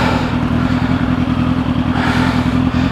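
A motorcycle engine overdue for an oil change idles steadily up close, a continuous low throbbing rumble with a faint mechanical clatter.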